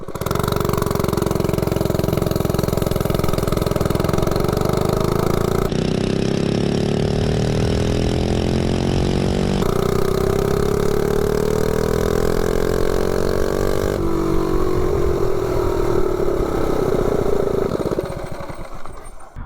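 A 98cc Rascal minibike engine revs up hard through several rising pulls with pauses between, loud and near, droning steadily before it drops off at the end; no talking.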